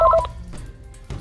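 Telephone keypad dialing tones: a quick burst of several bright electronic beeps at the start, loud and close, then fading into quieter room sound.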